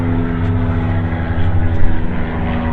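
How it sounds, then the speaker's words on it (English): A low-flying airplane passes overhead, a steady droning engine hum with a low throb holding loud and even for a few seconds. "That airplane is really low."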